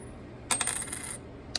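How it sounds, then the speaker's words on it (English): A coin drops onto a store floor and rings as it bounces and spins to rest, a bright metallic jingle lasting under a second, fairly close, with no talk over it. "out of all the coins that would have fell on the floor, it was this one"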